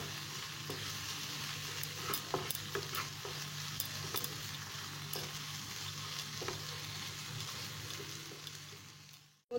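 Spices with a teaspoon of coriander powder fry in a pan for dhaba-style masala okra, giving a quiet continuous sizzle broken by frequent scraping, tapping stirs, heard up close.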